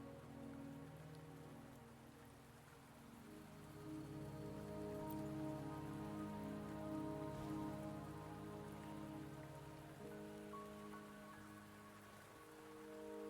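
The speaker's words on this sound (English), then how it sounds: "Don't worry, the rain won't last much longer." Steady rain falling in a mountain scene from the video game Wuthering Waves, a soft, even hiss under a layered, sustained musical drone, quiet throughout with no voices.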